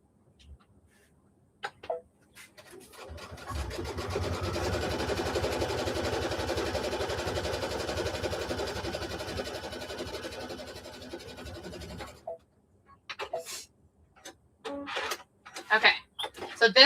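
A sewing machine runs continuously for about nine seconds while stitching a Christmas quilt block, giving a steady, fast mechanical whir. Brief speech and handling noises come before and after it.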